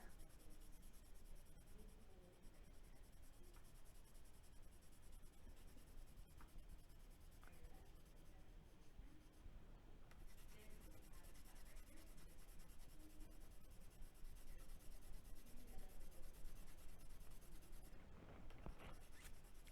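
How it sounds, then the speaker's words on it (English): Colored pencil shading a pinecone drawing on paper, using the side of the lead: a steady, close scratchy rub that continues alone with no pauses. "I'm just using that side of the colored pencil, making sure I'm not missing any"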